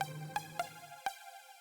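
A retriggered supersaw synth patch in a big room house style sounds in short stabs, each with a sharp click at its start, four hits in a second and a half, with the last tone ringing on.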